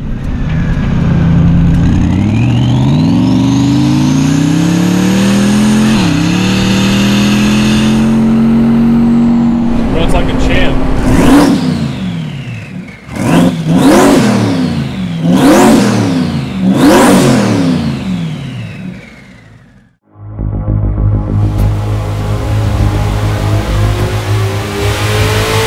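A twin-turbo C8 Corvette engine revs and accelerates hard on a test drive, rising through several loud, sweeping gear pulls with brief dips between shifts, then settling into a lower steady drone.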